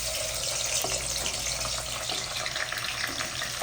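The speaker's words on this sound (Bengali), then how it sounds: "পেঁয়াজগুলো বেরিস্তার মতন করে ভেজে নিতে হবে" Chopped onions fry in refined oil and ghee with a faint, even hiss and light crackle that holds steady from start to finish, with no one speaking.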